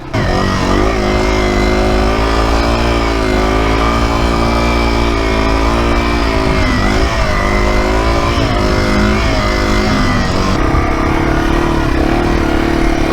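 A Yamaha TW200 motorcycle rides through deep sand, its engine droning loud and close the whole time. The pitch rises and falls as the rider works the throttle, and the engine note shifts near the end.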